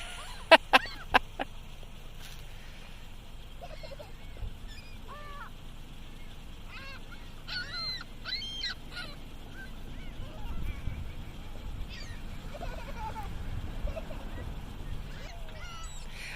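Seagulls call repeatedly at moderate distance, with short harsh squawks and cries scattered across the whole stretch over a low background rumble.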